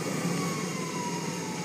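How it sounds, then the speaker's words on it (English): A fire engine siren from the game GTA 5 wails steadily over a low rumbling engine, loud and continuous with no talking. "You hear the fire engines?"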